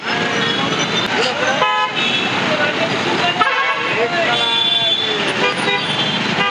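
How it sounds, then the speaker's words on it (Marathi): Dense traffic jam at Nevasa Phata junction, with car horns honking repeatedly in long overlapping toots over a loud, steady roar of road traffic and engines. "आज हे पूर्ण या ठिकाणी चोवीस घंटे ट्रॅफिक जाम होताना आपण पाहत आहोत"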